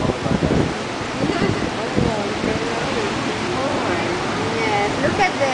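Strong gusty wind from Tropical Storm Fay roars and buffets the microphone in a steady, loud broadband rush, while a person talks excitedly over it.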